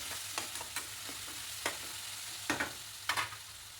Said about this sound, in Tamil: கத்திரிக்காய் சேர்த்து அதையுமே நல்லா வதக்கி விட்டுருங்க.